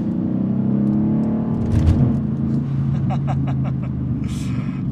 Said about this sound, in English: I hope the microphone picks up the exhaust, the turbo spooling.